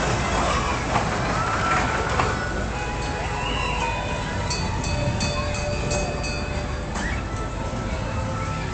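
Train interior, a steady broad rumble of a moving rail car with wheel and track noise throughout, some faint talk mixed in.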